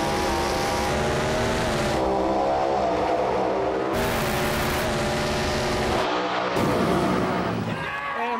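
Murder Nova drag race car in a close street race, a loud roaring engine that climbs through gear changes in abrupt stepped bursts, close by and harsh, with other engine noise mixed in.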